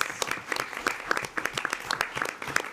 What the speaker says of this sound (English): Yes, it deserves an applause.